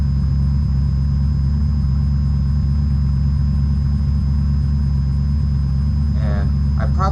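A vehicle engine in the zombie survival game Unturned runs at a steady, low droning rumble throughout, driving through a town, with a brief higher chirping sound near the end.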